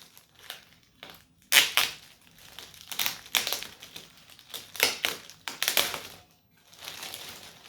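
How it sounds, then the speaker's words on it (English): Packing tape being peeled and torn off the cardboard box of a 1:18 scale model car, an ABT Audi S8 or Audi A8L, heard as a run of close, crackling rips and crinkles in uneven bursts with short pauses between them. "the first thing is I need to remove this tape here."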